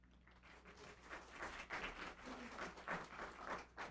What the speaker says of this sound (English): You're already getting an applause